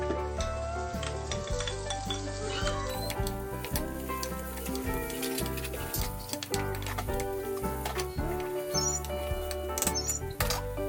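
Tofu hits a pan alongside onion and sizzles steadily, a continuous crackling fry with scattered stirring clicks and scrapes running throughout at moderate volume, with no talking.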